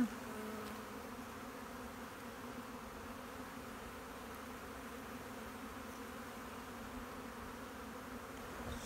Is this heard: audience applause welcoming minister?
no